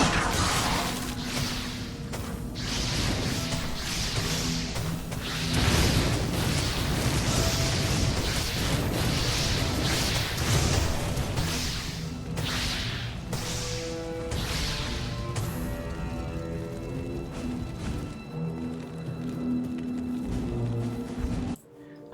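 Fireworks erupt in the finale scene of a remastered video game, a dense, loud run of crackling bursts, booms and whooshing shells that keeps going without a break.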